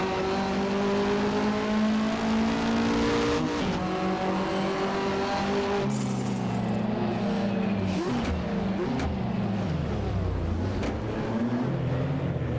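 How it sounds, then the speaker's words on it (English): Period touring cars from the 1985–1992 Australian championship, including a BMW E30, race in Assetto Corsa, with loud, continuous engine drones that rise and fall through gear changes as several cars pass closely, plus occasional tire squeal. "We've got the Benson Hensch's Alan Jones E30 driven by Rhodes"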